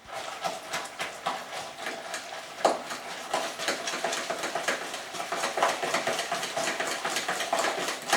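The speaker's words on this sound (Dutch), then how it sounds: "en 3 eieren erbij. Meng deze goed door elkaar." Three eggs being whisked in a bowl for Indonesian martabak telor: a steady, fast run of light rhythmic tapping and clinking of utensil against the bowl, close and moderately loud with no talking.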